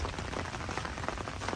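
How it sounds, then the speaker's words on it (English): Steady rain falls on a wet day, a dense even hiss of drops on surfaces with no break and no voices. "it's a rainy day here."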